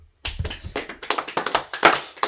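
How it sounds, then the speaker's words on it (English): A congregation claps at a Sabbath service in Milwaukee, a run of sharp, fairly even hand claps and taps that builds to a louder burst near the end, close and clear with no talking. "Man, look, clap it up for me."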